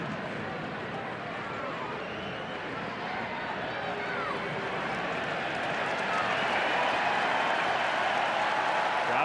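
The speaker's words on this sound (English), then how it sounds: "Crowd getting into it." Baseball crowd at Wrigley Field cheering and applauding, a dense continuous roar of many voices and clapping that swells steadily louder, with a broadcaster's voice faintly under it.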